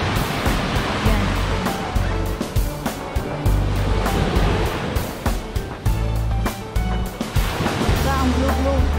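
Sea waves washing onto a shore with blue water, a loud, steady rush of surf that swells and recedes in surges, with voices heard faintly under it.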